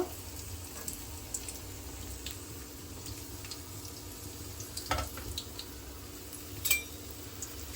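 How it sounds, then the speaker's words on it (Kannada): Onions fry in hot oil for homemade chilli chicken, making a soft, continuous sizzle with a few light clinks and scrapes of a utensil against the pan. "ಎಣ್ಣೆ ಸ್ವಲ್ಪ ಕಾಯಿಲಿ ಈರುಳ್ಳಿ ಚೆನ್ನಾಗಿ ಫ್ರೈ ಮಾಡ್ಕೋಬೇಕು"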